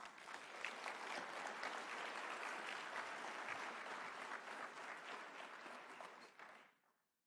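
Audience applause at a large conference opening, a dense, loud burst of many hands clapping that holds steady for several seconds and then fades quickly to silence.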